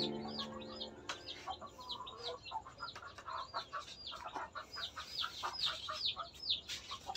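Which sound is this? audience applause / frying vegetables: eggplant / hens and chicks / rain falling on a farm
hens and chicks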